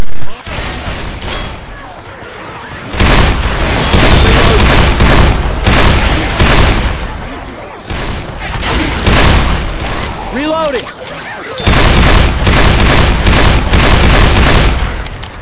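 Rapid bursts of gunfire in the video game Left 4 Dead 2 on the Hard Rain campaign, loud and near, with sustained automatic fire, heavy booms and pauses between volleys while players talk over it.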